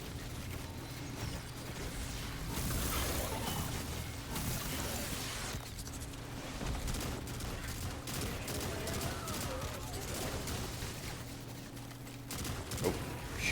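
Gunfire in the video game Destiny, dense rattling bursts of automatic fire mixed with mechanical clatter and pops, sustained and fairly loud across the whole stretch with no talk.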